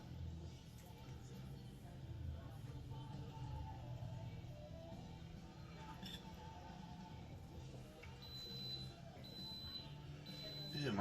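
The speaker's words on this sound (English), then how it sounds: "And my rice is done. That's what that beep means." A rice cooker signals the rice is done with a few faint, evenly spaced high beeps near the end, heard over a steady low kitchen rumble.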